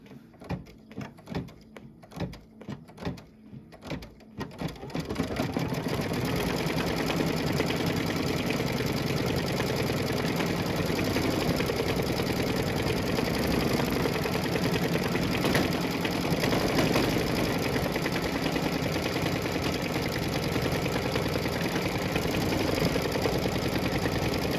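Embroidery sewing machine stitching a tack-down outline for appliqué leaves in green thread: a few seconds of intermittent clunks and start-up bursts, then a steady, loud, continuous rapid needle hum running alone.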